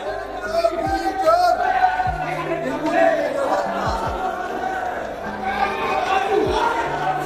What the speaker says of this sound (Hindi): तो गाइस भीड़ देखिए कितनी होती है यहाँ पे भीड़।